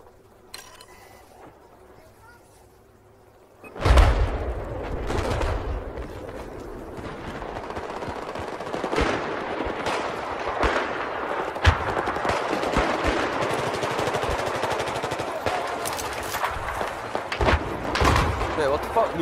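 Rapid gunfire and heavy thuds in Battlefield 4, loud bursts of shots rattling out over several seconds with a player talking over the shooting.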